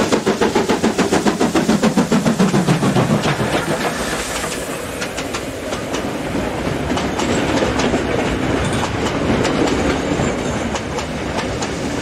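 A steam-hauled mixed train rumbles steadily past nearby in South Africa, wheels clicking rhythmically over rail joints with a heavy engine drone throughout.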